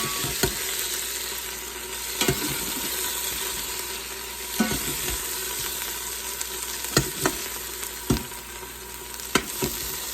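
Steak bites sear in an Instant Pot on the sauté setting, giving a steady close sizzle broken by periodic scraping and clacking as the meat is stirred and turned.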